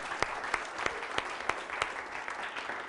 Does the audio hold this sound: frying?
no